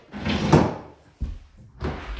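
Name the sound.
cabin door opening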